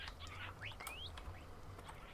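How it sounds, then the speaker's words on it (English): Faint Minecraft parrots chirp with a few short rising whistles and tweets over a low ambient hum, spaced irregularly and sounding somewhat distant. "I will spawn in a few parrots over here"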